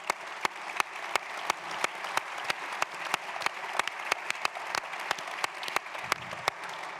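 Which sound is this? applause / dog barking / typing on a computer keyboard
applause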